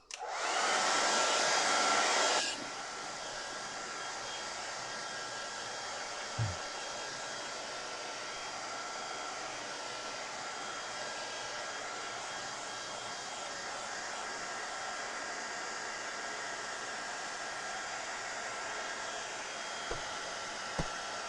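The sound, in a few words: hair dryer drying a watercolour painting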